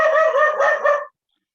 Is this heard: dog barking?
yes